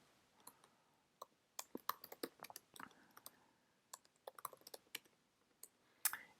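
Quiet, close typing on a computer keyboard, a light patter of irregular key clicks coming in uneven bursts with short pauses between them.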